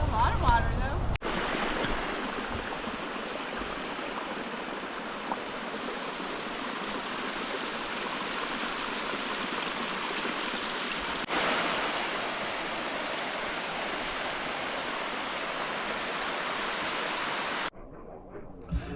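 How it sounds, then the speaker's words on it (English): Fast, deep river water rushes past a gravel bar near a hot springs, a steady loud broadband roar that fills the whole stretch without letup. "It's probably under about 4 feet of water, 5 feet of really fast rushing water."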